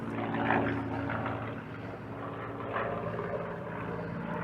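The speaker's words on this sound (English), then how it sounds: "the sound of the plane going above our heads is a Spitfire" A Supermarine Spitfire propeller plane passes overhead, its engine a steady, loud droning roar that swells slightly and holds throughout with no speech.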